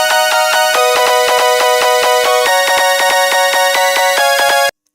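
A Eurobeat synth lead with stacked bright tones plays a steady note pattern where each note is held long, leaving little gap between notes, loud and alone before stopping abruptly near the end.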